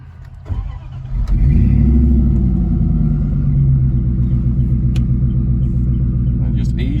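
A car engine revs and rumbles steadily while a novice driver eases off the clutch and gives it gas, a loud low drone that holds for several seconds after a brief start.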